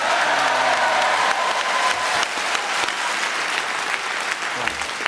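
Studio audience at a radio panel game show breaks into dense, sustained applause that fills the whole stretch at a steady loud level, with a faint voice underneath.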